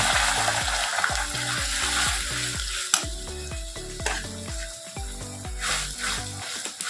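Garlic frying in a pan with jute leaves being added gives a steady bright sizzle and occasional stirring scrapes, while a melodic tune plays underneath throughout.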